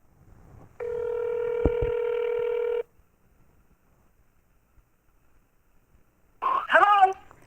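A telephone call placed on speakerphone to announce an APQS Quilt Forever longarm quilting machine giveaway winner: a steady two-second burst of dialing tone with a brief click, a long pause, then a short electronic warble of ringing.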